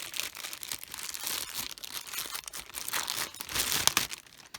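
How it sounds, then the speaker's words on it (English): Crinkly plastic wrapping being peeled off a new Blythe doll, a run of close, quiet crackling and rustling bursts with no talking. "Let me get her little plastic off of her."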